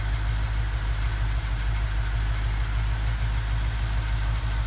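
A grey car with new mufflers and exhaust idles steadily, a deep low rumble with an even pulsing throb that holds constant and close throughout, with no talk over it.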